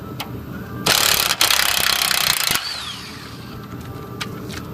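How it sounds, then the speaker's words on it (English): A power impact wrench removes bolts from a Mustang 8.8 rear end, a loud close burst of rapid hammering buzz lasting under two seconds, followed by quieter clinks and shop noise. "we're going to get the impact on it. And remove these from both sides"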